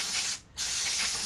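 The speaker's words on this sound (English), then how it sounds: "I like to spray with brake clean" Brake cleaner sprayed onto the rear brake caliper of a 2016 Harley-Davidson Street Glide FLHXS, two close, loud aerosol bursts separated by a brief pause.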